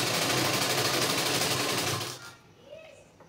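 A sewing machine runs a steady, rapid, close stitching whirr on sheer blouse fabric for about two seconds, then stops, leaving faint handling noise.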